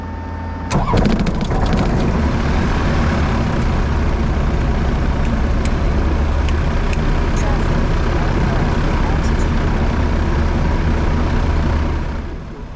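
Small propeller airplane engine cranking and catching with a burst of sharp pops, then settling into a loud, steady idle rumble that holds for about eleven seconds before cutting off at the end.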